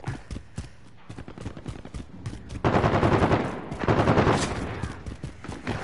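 Gunfire in Call of Duty Modern Warfare during an Infection match: loud, rapid automatic bursts rattle almost without pause, with heavier, denser volleys in the second half.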